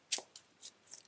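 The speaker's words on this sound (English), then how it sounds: "The deck might want to be cut." A tarot deck being cut and shuffled by hand: a quiet, close sequence of four brief papery riffles and slaps within about a second, with no talking.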